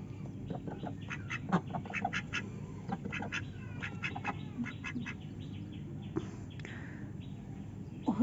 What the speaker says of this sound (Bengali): এই যে এটা আমার শ্বশুরের হাঁসের ঘর।